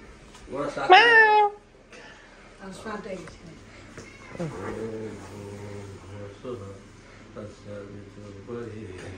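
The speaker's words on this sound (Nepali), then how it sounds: "क्याट पनि छ" A house cat meows briefly near the start in a family home, a short rising and falling call, followed by quieter household sounds and people chatting.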